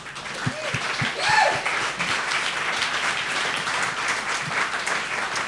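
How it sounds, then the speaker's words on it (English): A round of applause for the chefs at the Epic Chef 2023 cooking competition: a full crowd claps loud and steady, with a few whoops and cheers standing out near the start before the clapping settles into an even roar. "let's a round of applause for our chefs"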